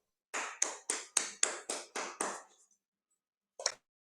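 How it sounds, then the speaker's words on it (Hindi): Eight sharp hand claps in a quick even run, fading slightly, then a single clap after a short pause, close and clear with no talking, at a session of a meeting. "इसकी बात पर एक बार फिर से जोरदार तालियां बजा देते हैं सर"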